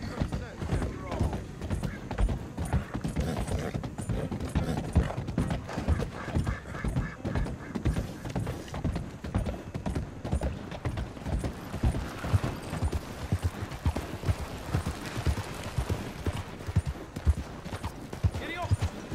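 Horse hooves gallop in Red Dead Redemption 2, a fast, even clip-clop that continues through the whole stretch at close range, with light game sound effects around it.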